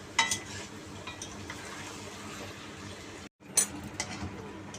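Meat for biryani fries in a pot with a soft continuous sizzle, broken by a few clinks of a stirring utensil against the metal, faint and close.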